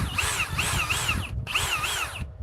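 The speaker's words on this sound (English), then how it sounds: "this is their high torque hammer drill from Rigid" Ridgid high-torque cordless hammer drill on a 21700-cell battery, running in two close, loud, steady whirring bursts separated by a short pause, with no talking.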